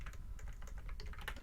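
Rapid typing on a computer keyboard during Java coding, a steady stream of close, quiet key clicks with no voice.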